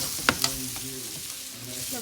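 Potato chunks frying in a pan, a steady crackling sizzle with a couple of sharp pops near the start, fairly close and even throughout.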